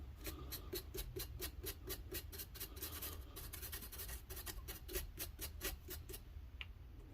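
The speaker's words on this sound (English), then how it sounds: "I got me a little wire brush. Clean that sucker up." Small wire brush scrubbing a pitted bushing and part of a broken reciprocating saw, a fast run of sharp rhythmic rasping strokes at close range, steady and moderately loud, with no talking.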